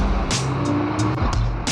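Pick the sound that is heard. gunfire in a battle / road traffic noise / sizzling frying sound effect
road traffic noise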